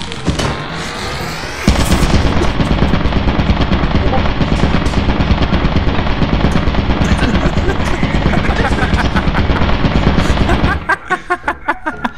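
An automated turret in the video game Lethal Company sprays a sustained, rapid-fire stream of machine-gun shots for about nine seconds, loud and close, cutting off abruptly before scattered trailing shots.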